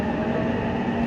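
A Seibu Line express train bound for Hanno rumbles at Ikebukuro Station, a brief, steady, close low hum of the railcar with no voices.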